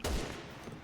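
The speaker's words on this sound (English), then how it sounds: "Oh, I think you got sniped." Sniper rifle shot in the video game Resident Evil 6, a single short sharp blast with a quick decaying tail, fairly faint and heard alone.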